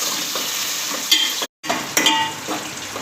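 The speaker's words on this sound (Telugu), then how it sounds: "కట్ చేసిన ఆనియన్ ముక్కలు, పచ్చిమిర్చి ముక్కలు వేయించుకొని ఇట్లా వేయించుకోవాలండి." Chopped onions and green chillies frying in hot oil with mustard seeds and cumin, a steady close sizzle with stirring scrapes, broken by a brief silent cut midway.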